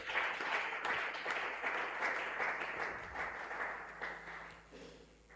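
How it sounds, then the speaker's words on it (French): Church congregation applauding loudly during a Friday prayer service, dense sustained clapping that stays strong and then slowly thins toward the end, with faint background hum and no talk. "Acclame très fort, acclame très fort."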